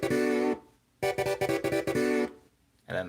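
Short synthesizer stabs from a patch called Fuji play a riff, with bright clustered chords in quick rhythmic bursts separated by brief silences, loud and alone.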